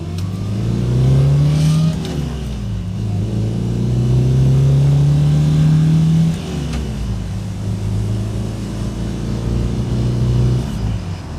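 A 1967 MGB with a worn third-gear synchronizer drives along, its engine revving up repeatedly and dropping between gear changes in a steady rising-and-falling pattern, loud and close inside the car.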